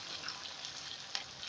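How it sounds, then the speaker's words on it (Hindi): Onions and peanuts roast in a pan for poha, sizzling steadily up close with faint scraping stirs and a couple of louder crackles near the end. "प्याज और मूंगफली को अच्छे से भूनने दीजिए।"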